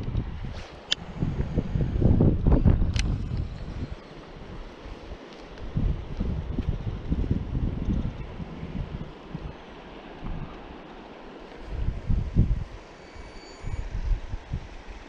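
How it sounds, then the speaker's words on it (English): Wind blowing outdoors while fishing, gusty rumbling buffeting that swells and eases in uneven waves, loud and close throughout with no talk. "Wind's a little chilly still."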